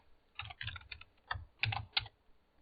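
Fingers typing on a computer keyboard in quick, irregular bursts of keystrokes, close and fairly quiet, with short pauses between clusters and no voices.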